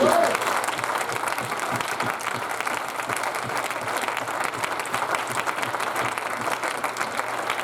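A church congregation applauds during a French-language sermon, with dense, steady clapping that carries on for several seconds and some voices mixed in.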